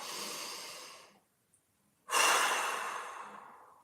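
Deep breaths during a rib-cage-expanding mobility warm-up: a long, airy exhale trails off, then a short silence, then a strong inhale rushes in and slowly fades. The breathing is close and clear, with no talk.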